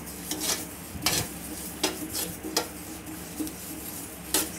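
Sesame seeds dry roasting in a pan without oil, with a spoon or spatula scraping and clinking against the metal in irregular strokes, close and fairly quiet.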